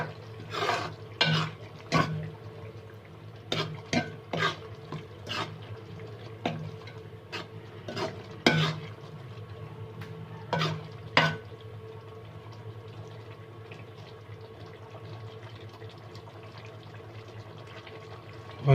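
A spoon stirs white beans (lobia) in a cooking pot, giving sharp, irregular clinks and scrapes against the metal for several seconds before settling into a soft, quiet simmer.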